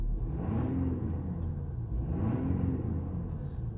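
A tuned Jeep Grand Cherokee EcoDiesel engine runs at a steady low rumble nearby, swelling twice in brief revs before settling back, with no talking.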